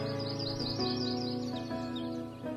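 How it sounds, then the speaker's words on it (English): Small birds flying home in a cartoon chirp in quick, repeated tweets, bright and light, layered over a sustained musical background with no talking. "Where are these birds going?"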